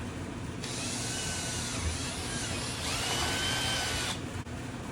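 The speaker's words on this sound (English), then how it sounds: "you can drill a little hole in the plastic" A power drill bores a small hole in a vehicle's plastic grill, a steady close whine that runs for about three and a half seconds, shifting slightly in pitch partway through, then cuts off.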